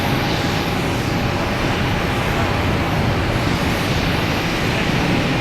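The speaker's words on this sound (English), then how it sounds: "There's JetBlue heading to LAX. An A321 flight" A JetBlue Airbus A321 jet at Boston Logan Airport roars steadily as a broad, continuous engine rumble, loud and close, holding level throughout with no talk.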